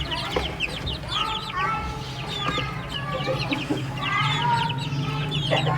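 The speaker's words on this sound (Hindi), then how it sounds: "इस मादी के साथ चूज़े" An Aseel hen clucks steadily among her chicks in a roomy pen, with close, repeated soft clucks and thin chick peeps running throughout under a low background hum.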